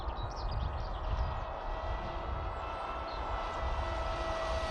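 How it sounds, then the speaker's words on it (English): A Sipa 200 RC model airplane, a fast model on a 3S battery, flying at half throttle: a steady, continuous motor whine with a constant broadband roar, no speech. "I'm about half throttle at the moment. Still motoring on. It's a very fast model."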